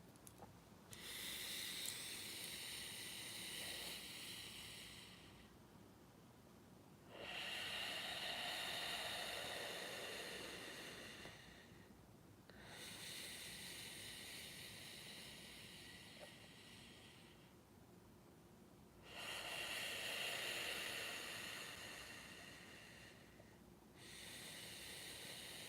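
A person breathes in long, deep cycles into a frequency breather crystal device, each breath a broad hissing rush lasting several seconds, separated by quieter pauses, close and steady with no talking.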